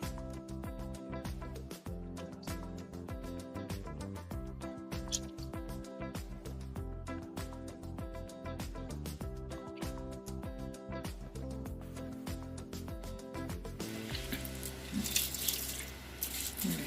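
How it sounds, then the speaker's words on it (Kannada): Water runs into a cooking pot while preparing egg biryani in a home kitchen, a steady splashing pour lasting throughout, fairly quiet and with no talking. "ಇವಾಗ ನಾನು ನೀರ್ ಹಾಕೊಂತ ಇದ್ದೀನಿ."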